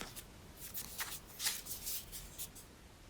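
Tarot cards from the Light Seers Tarot deck being shuffled and handled, a soft continuous papery riffle with quick flicks and slaps, close and moderately quiet, no voices.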